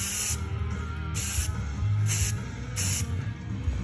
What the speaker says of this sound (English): spray this inside first